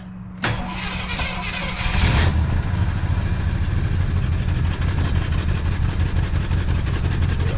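A 1978 AMC Jeep Wagoneer engine cranks briefly with the starter whirring, catches and fires, then settles into a steady, rumbling idle that continues close by with no talking.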